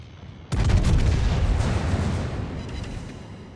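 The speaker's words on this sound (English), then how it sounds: "Secondaries are firing on the Caracciolo" Secondary guns blasting from the battleship Francesco Caracciolo in World of Warships, a sudden heavy boom that rolls into a long rumbling decay lasting several seconds.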